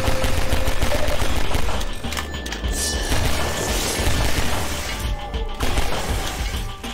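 Rapid pistol fire in Half-Life 2 RTX, a dense, loud string of repeated shots with crashing impacts throughout, pausing briefly before resuming.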